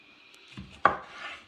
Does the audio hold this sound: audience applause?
no